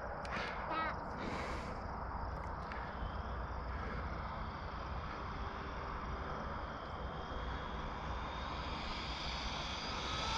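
An Arrma Typhon RC car with stock electronics runs at full throttle, its electric motor giving a steady high-pitched whine that holds loud and even for the whole stretch, with a few brief chirps early on.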